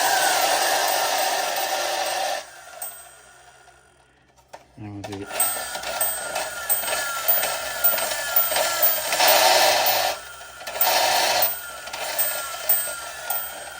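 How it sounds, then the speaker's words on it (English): A Superjetter tin toy fire truck with Ford hubcaps whirs loudly as its motor revs in bursts, with bright tonal ringing from its bell; a voice speaks briefly. "You would think after all that revving, I'm going to try it one more time just to hear the bell."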